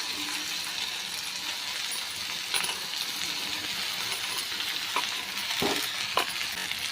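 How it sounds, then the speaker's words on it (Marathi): Finely chopped okra frying with green chillies over high heat, a constant hissing sizzle with a few sharp clinks of a utensil against the pan. "बारीक कट केलेली आपण भेंडी टाकूया"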